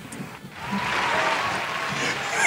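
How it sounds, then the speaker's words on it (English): An audience claps for Coach Roy: faint at first, then swelling into a steady round of applause that grows louder toward the end. "Come on, clap it up for Coach Roy."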